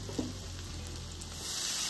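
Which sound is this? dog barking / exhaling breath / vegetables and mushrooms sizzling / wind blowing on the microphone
vegetables and mushrooms sizzling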